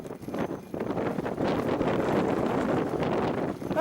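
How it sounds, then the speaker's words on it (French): Strong Patagonian wind buffets the microphone on an open, flat road, a loud continuous roar and rumble that swells and gusts without pause for the whole stretch, with no voices. "c'est le vent qui me pousse."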